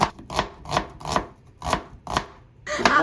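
A knife finely chops onion and ginger on a cutting board in a steady rhythm, seven or eight crisp, close strikes spaced about a third of a second apart.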